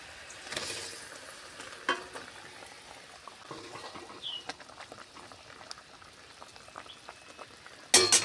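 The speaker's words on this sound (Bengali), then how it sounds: "ঝোলটা ফুটে উঠেছে, এবার আমি ভেজে রাখা মাছগুলো দিয়ে দেব" Fried fish pieces go into a boiling gravy, giving a quiet bubbling simmer with scattered clinks and scrapes of a spoon, then a sharp, louder sizzling burst right at the end.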